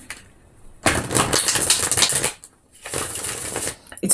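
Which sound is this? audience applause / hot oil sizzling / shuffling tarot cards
shuffling tarot cards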